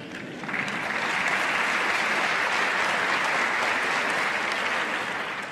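Sustained applause from a large audience at a college commencement ceremony, dense and steady, starting quickly and holding at full strength for several seconds before easing slightly.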